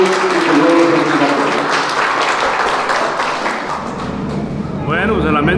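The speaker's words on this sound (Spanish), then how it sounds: "les damos un fuerte aplauso a estos niños y niñas en patrimonio" Applause from a crowd at a church festival for the Virgin of the Candelaria, honoring children, filling the scene steadily and fairly loud, with voices talking through it and a brief voice near the end.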